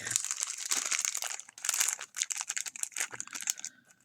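Crinkly packaging from a safari-themed mystery box is torn and crumpled open close by, giving a busy, rustling crackle in irregular bursts with a short pause midway.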